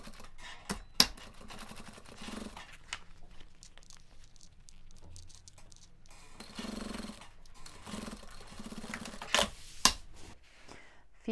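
Sewing machine stitching the bottom seam of a fabric cube pouch with lined pockets, short quiet bursts of rapid mechanical stitching separated by pauses and soft fabric handling.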